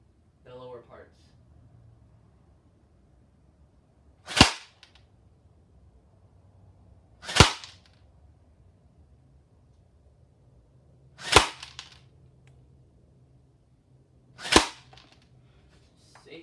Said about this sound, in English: So I'm on semi now. I'm gonna hit the lower parts.